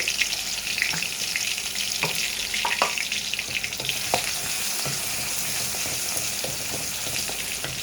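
A bay leaf, a dried chili and chopped garlic fry in hot oil, making a loud, steady crackling sizzle up close, broken by scattered clicks and scrapes from stirring.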